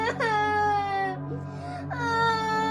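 A young girl cries and wails in long, sustained sobbing tones that dip briefly and then rise again, close and loud, as a sound effect in a Malay horror audiobook.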